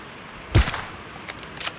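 A single sharp gunshot goes off in a shooter video game as a headshot lands, followed by a few fainter clicks and small bangs.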